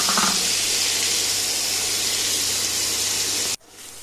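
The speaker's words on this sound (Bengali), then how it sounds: "এবার কড়াইতে অল্প সর্ষের তেল দিয়ে মাখিয়ে রাখা চিংড়ি মাছগুলোকে ভেজে নেব।" Prawns coated in mustard oil sizzle in a wok, a loud steady frying hiss that runs unbroken and then drops off abruptly near the end.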